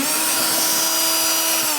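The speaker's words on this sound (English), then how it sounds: "Using a Phillips head bit on my drill, we can take these 3 out." A power drill fitted with a Phillips head bit whines steadily up close while backing screws out of a 2014-2019 Kia Soul during windshield washer reservoir replacement.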